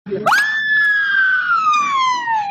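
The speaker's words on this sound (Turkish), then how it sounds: "Ya ambulans sesi çıktı." A single rising wail of an emergency siren that holds a steady high tone, then slowly slides downward, loud and close.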